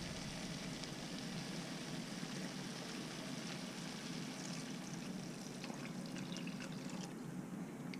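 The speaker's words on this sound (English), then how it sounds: "and add water" Water poured into a pan on a stove for a redfish brown gravy, a steady soft trickling stream running without pause, fairly faint and close.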